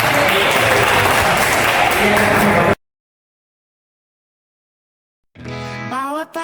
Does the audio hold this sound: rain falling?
no